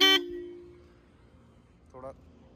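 A Royal Enfield Standard 350 motorcycle horn, 2022 model, sounds one loud, short honk at the start, followed by quiet background; a second, briefer toot sounds near the end.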